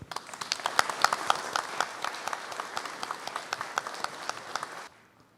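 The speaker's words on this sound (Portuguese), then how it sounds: "E peço uma salva de palmas ao nosso novo presidente e à sua diretoria." Applause at a Clube Naval ceremony for the newly elected club president and his board: a crowd claps steadily and fairly close for about five seconds, with a few sharper individual claps standing out, before stopping abruptly.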